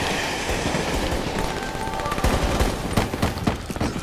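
A train rushes past in Black Ops 3 multiplayer, a dense roaring, rattling wash that grows harsher with sharp clattering bursts toward the end, loud and close with no talk over it.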